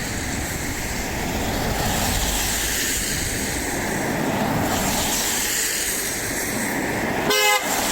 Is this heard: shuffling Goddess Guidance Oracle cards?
no